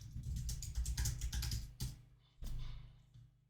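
Someone types a comment on a computer keyboard, a rapid close run of clicking keystrokes followed by a pause and a final short burst of taps.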